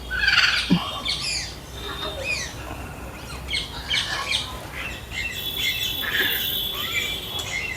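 Parrots at Alipore Zoo in Kolkata squawk and chirp in short, scattered bursts, some near and sharp, others fainter, over a low outdoor background hum with insect-like buzzing.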